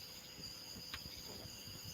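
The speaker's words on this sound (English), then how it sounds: "It's crickets and all that stuff." Crickets chirping at night, a faint, steady high-pitched trill repeating continuously in the background with soft low rumble beneath.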